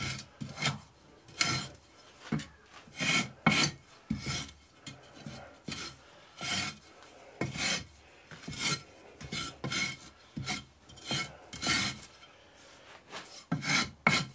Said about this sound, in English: Strip it off flat, scrape it flat.